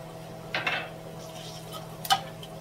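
Garlic and cumin being stirred in a pan, two brief scraping clinks of a utensil against the metal over a faint low hum.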